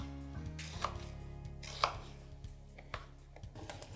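Knife chopping onions into big quarters on a board, a handful of sharp, fairly close chops spaced irregularly, with two louder cuts standing out over low kitchen background hum.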